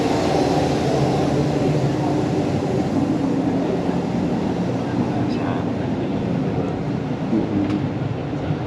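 Low, steady rumble and hiss inside an overnight sleeper-class train running from Bangkok to Chiang Mai, a continuous loud drone with faint higher clinks near the end.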